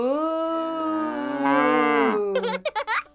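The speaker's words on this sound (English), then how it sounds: "What sound does a cow make? Moo." A cow gives one long, loud, drawn-out moo that rises and falls, then a few short bursts of giggling laughter follow.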